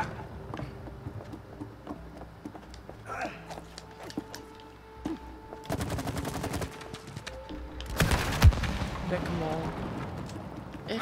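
Video game gunfire from It Takes Two, fired at a rope, bursts in loud rapid volleys over background game music, with a heavy crackling barrage near the end.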